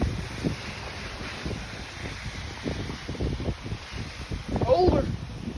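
Gusty wind rushes over an open mic beside rain-swollen water after a downpour, a rough, fluttering roar that builds toward the end, with people talking and exclaiming over it.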